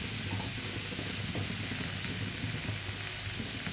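Pumpkin and fish head frying with spices and chilli powder in a pan, giving a soft, continuous sizzle over a low steady hum, with no voices.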